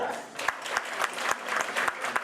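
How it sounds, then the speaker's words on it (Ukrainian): Patients at the Superhumans rehabilitation center applaud during a postage stamp cancellation ceremony, a dense, steady crowd clapping with a few sharper individual claps standing out near the listener. "Під оплески пацієнтів у Суперхюман згасять власну серію поштових марок"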